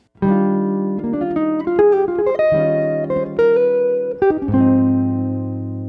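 A clean electric jazz guitar plays a quick melodic line of single notes and short slides from a guitar solo, with a couple of held notes, alone and close.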